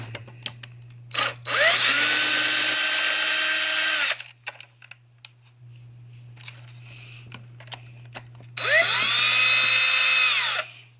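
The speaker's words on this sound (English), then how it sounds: "I don't know if you could hear me with the drill going." A power drill whines in two bursts of a few seconds each while working on a Traxxas X-Maxx RC truck, pitch rising and settling, with quiet pauses and small clicks between.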